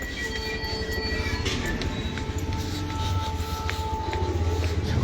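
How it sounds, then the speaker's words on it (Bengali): A train passes near a new footbridge stairway on a winter morning, its steady low rumble running throughout with thin sustained metallic squeals and tonal whines over it. "ট্রেন দিয়ে দিয়েছে, তাড়াতাড়ি যাচ্ছে"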